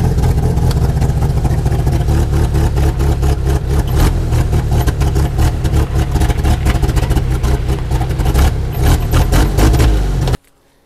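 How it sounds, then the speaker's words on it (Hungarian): A UAZ 469 engine, started without a crank, runs loud and close with a rough, pulsing mid-range rumble that continues steadily before cutting off abruptly at the end. "Két hónap után végül is beindul, csak nem kurblival."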